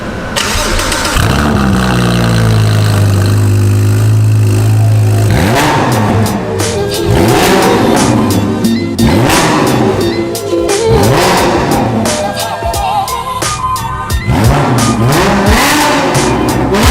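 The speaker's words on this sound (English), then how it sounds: "It sounds so good, and straight through Novitec exhaust as well." Gumpert Apollo supercar engine breathing through a Novitec exhaust, starting with a low sustained rumble, then loud repeated revs and throttle blips rising and falling close by, with no talk.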